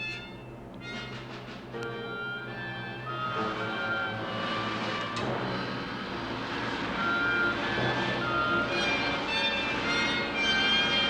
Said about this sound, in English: The weight of 8 gravities will thrust upon him as he rides the human centrifuge.